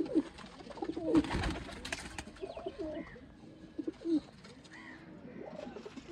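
Rare Sialkoti female pigeon cooing in low, repeated throaty coos, with a few soft bursts and scattered chirps from other birds nearby.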